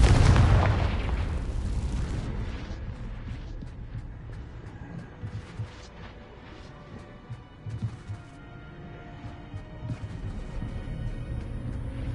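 A Confringo fire spell bursts in Hogwarts Legacy with a loud, deep boom at the start, then rumbles and crackles on for several seconds as a dense, low explosive wash with scattered small pops, no voices over it.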